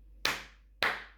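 Two sharp, close hand claps spaced about half a second apart, loud and dry against a quiet low hum, with no talking over them.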